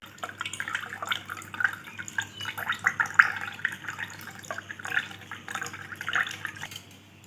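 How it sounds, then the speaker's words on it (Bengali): Mango sherbet strained through a sieve into a glass, a steady trickling and dripping of liquid with soft splashes running throughout at close range, no speech. "এবার আমি এটাকে ছাঁকনি দিয়ে ছেঁকে সার্ভ করে দেবো।"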